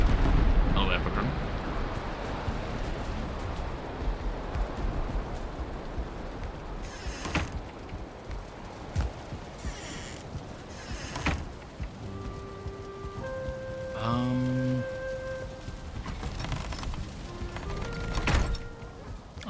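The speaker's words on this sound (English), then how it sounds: "Oh, it stopped raining." Video game rain makes a steady broadband hiss that gradually thins and fades, while synthetic tonal effects and bleat-like game sounds appear in the later part.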